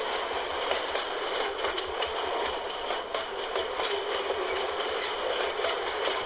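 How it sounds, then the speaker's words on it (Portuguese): Freight train passing near a railway cutting in Rolândia, a steady rumble of railcars with rhythmic clickety-clack of wheels on rail joints and a faint squeal, moderately loud and unbroken. "Quando eu cheguei próximo, o trem já estava acabando de passar."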